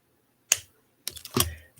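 Beading wire is trimmed with cutters, one crisp snip followed a half second later by a couple more close clicks and a rustle.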